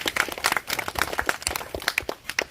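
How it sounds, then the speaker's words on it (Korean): A small group claps together in a steady patter, moderately loud and nearby, with no voices over it, at a gathering with a city mayor during an outreach trip in Hagi, Japan. "박수 한번 보내주세요"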